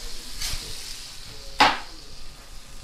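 Steak sizzling in a hot pan as it is flipped: two short bursts of hiss and crackle, the second louder and sharper, over a faint steady sizzle.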